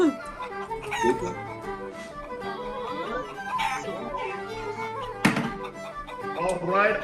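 Chickens cluck and squawk at a St. Patrick's Day magic show, a busy run of sharp, uneven calls with a few loud bursts and a thunk, fairly close.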